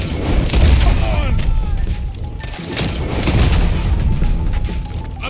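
Booming gunfire and heavy shots echo through a Red Dead Redemption 2 shootout, loud and continuous with overlapping blasts and shouting voices in the mix.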